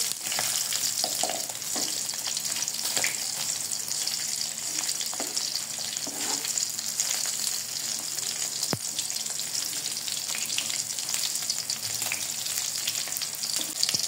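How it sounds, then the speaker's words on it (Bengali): Koi fish fry in hot oil, giving a dense, even sizzle that runs unbroken and close throughout, with only a few faint pops and stirring touches and no voices. "কই মাছ ভেজে নিয়েছি, লাল করে তুলে নিব"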